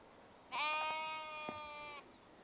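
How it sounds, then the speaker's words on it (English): A single sheep out in a field gives one loud, clear bleat lasting about a second and a half, alone against quiet outdoor background. "The sheep are very noisy here."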